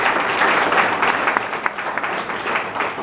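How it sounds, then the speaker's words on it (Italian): Audience applause for the author at an Italian book presentation in Poggio Imperiale, a steady, dense wash of clapping from a sizable crowd that holds loud and even throughout. "volevo fare un grande applauso all'autore del libro"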